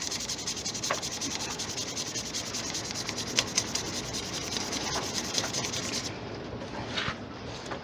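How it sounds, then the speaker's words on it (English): Sandpaper rubs steadily along the grain of an antler pen blank spinning on a wood lathe, a continuous close hiss with a faint scratchy texture that eases off near the end. "stop and sand with the grain"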